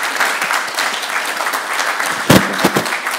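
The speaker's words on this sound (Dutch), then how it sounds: "mag ik nogmaals een applaus voor professor Stokker" An audience at a university lecture claps steadily, a dense, even patter of many hands lasting several seconds with a few louder claps near the end.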